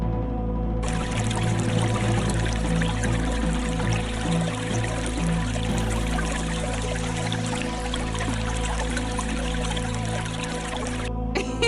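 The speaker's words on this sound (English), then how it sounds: "Then, the sound of water gurgling." Water pours and gurgles steadily and loudly for several seconds as a continuous, dense flowing sound, with no voices, before cutting off abruptly near the end.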